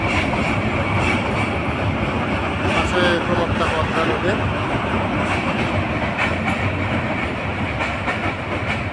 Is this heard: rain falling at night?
no